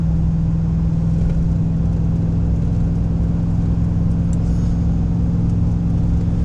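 A 2004 Chevrolet 2500HD pickup with the 6.0 gas V8 and 195,000 miles cruises at highway speed in fourth gear while towing a small trailer, its engine a steady, droning hum under constant road noise inside the cab.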